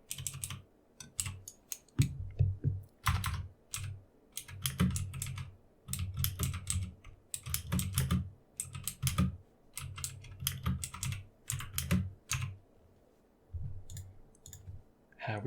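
Computer keyboard typed on in a quiet room, close and crisp clicking key presses in irregular bursts with short pauses between them.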